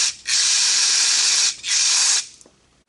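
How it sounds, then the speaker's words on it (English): Carburetor cleaner sprays through the passages of a Suzuki ATV carburetor in two loud, close hissing bursts with a short break between, then tapers off. "Should see some carb fluid spray up through here."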